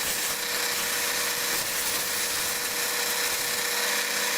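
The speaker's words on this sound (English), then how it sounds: "Now I've turned the speed up on the lathe and I'll sand it up." A wooden nutcracker foot is sanded on a lathe running at high speed, giving a steady, bright, hissing whir that holds at a moderate level without pause.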